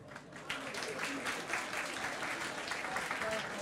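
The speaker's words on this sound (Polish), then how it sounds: "Też brawa." Audience applause at a school talent show opening in a hall, a steady dense wash of clapping that swells slightly and holds throughout with no clear talk.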